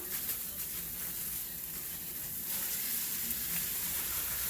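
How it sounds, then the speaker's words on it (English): About a pound and a half of fresh ground pork sizzles steadily in a hot pan, a continuous close hiss and crackle with no voices over it. "Now we're going to throw in our pork. This is about a pound and a half of just fresh ground pork."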